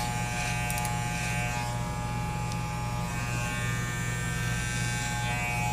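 Electric hair clippers fitted with a number 8 guard run close and loud during a haircut, a steady continuous buzz with no talk.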